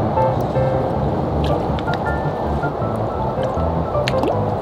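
Water fills and drips from a homemade drinking invention worn on a hat, a steady wet splashing and dripping with squishy gurgles running continuously throughout, fairly loud and close.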